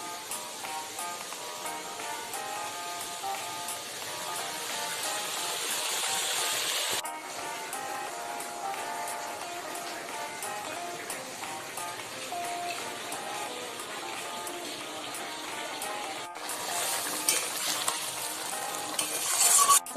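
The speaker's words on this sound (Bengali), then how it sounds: "ঝোল ফুটছে, এবার মাছের ডিমগুলো আমি দিয়ে দিচ্ছি" Spiced fish-egg curry broth simmering in a pan, with steady broadband bubbling and stirring clatter, utensil scrapes against the pot, and a few sharp clicks, loud and close, continuous throughout with no talk.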